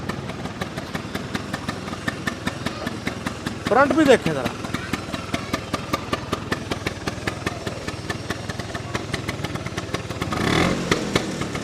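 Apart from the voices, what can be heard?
Vespa 150 two-stroke scooter engine running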